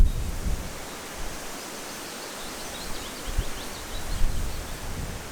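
Strong wind roars in gusts at a stormy lakeside wild camp, a broad rushing noise that swells and eases with no voices.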